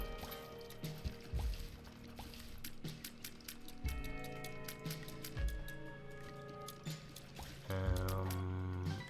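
A toilet flushes in The Binding of Isaac video game, a rushing, pouring water sound with mechanical clunks and trickles, moderately quiet and playing alone over the game's background sounds.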